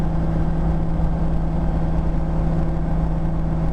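A BMW E30 fitted with an S54 engine cruises in sixth gear at highway speed, its engine holding a steady, even hum around 3,200 RPM beneath road and wind noise.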